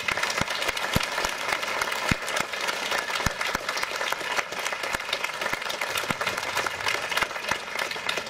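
Audience applause honoring authors at a bookshop event, dense steady clapping from many hands throughout with a few sharper nearby claps standing out, no talk over it.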